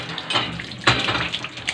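Running water splashes and rinses soap suds off a pet pig, a steady close wash with a brief louder gush partway through, no voices.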